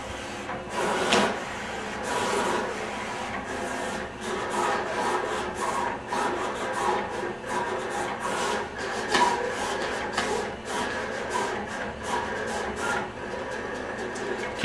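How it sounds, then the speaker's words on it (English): Vinyl cutter slicing Spectra Megatallic heat transfer vinyl in royal blue, a continuous close scratchy whirring with rapid stuttering cutter moves and brief bursts throughout. "So I'm sending it to the cutter."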